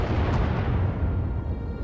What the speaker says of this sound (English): Sounds like the bombing's getting closer.